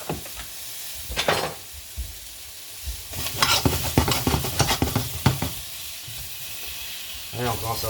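Sliced baby artichokes caramelize in a hot pan, giving a steady sizzle and hiss with bursts of stirring and scraping. The sound grows busier and louder through the middle and softens toward the end.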